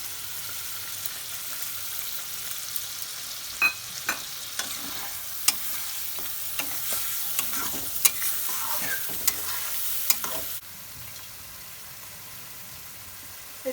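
Masala of cashew, almond and tomato paste frying in oil for a paneer curry, sizzling steadily with scattered spoon-stirring clicks before dropping off near the end; no talking.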